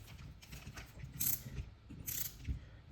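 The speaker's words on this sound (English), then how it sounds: "Keep rotating the torque wrench." Torque wrench ratcheting while bolts are tightened on a fuel cell fixture, giving soft, fairly faint mechanical clicks and scrapes in a loose repeating rhythm with no talking.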